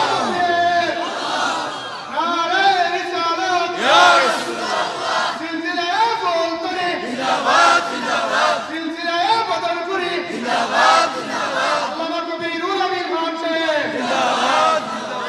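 A large crowd at an Islamic religious gathering shouts the takbir chant in unison, repeated rhythmic roaring calls with harmonic voices, loud and sustained across several waves.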